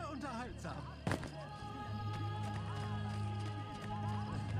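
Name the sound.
horse in the video game Assassin's Creed Brotherhood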